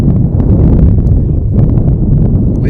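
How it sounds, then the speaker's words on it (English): Strong gusting wind sweeps across a high school baseball field, a loud, continuous roar of wind buffeting the microphone throughout. "Winds averaging about 17 miles an hour, gusting to around 30."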